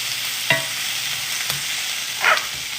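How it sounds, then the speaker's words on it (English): Snow peas sauté in a hot pan for a steak stir fry, a steady sizzle running throughout as a utensil stirs them, with sharp scraping clatters near the start, middle and end. "I'm gonna give this one more stir. Beautiful. And then we're gonna saute these in here as well."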